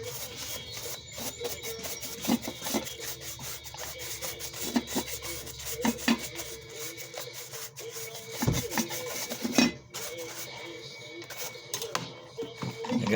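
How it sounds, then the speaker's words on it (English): A drill fitted with a brazing wheel scours a cast iron tea kettle during restoration, giving a continuous gritty rasping and whirring that shifts in pressure, close and steady for the whole stretch. "I got these these brazing wheels on my drill"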